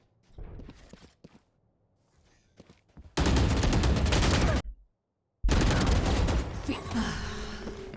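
Rapid automatic gunfire in the Valorant shooter game, two loud sustained bursts separated by a short silence, preceded by a few quieter shots and footsteps.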